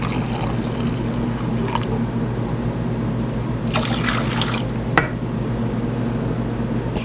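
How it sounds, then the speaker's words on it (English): Broth runs in a steady pour into a cooking pan, a continuous close liquid trickle and splash with an even level throughout and no speech. "we're gonna add three cups of this broth to the pan"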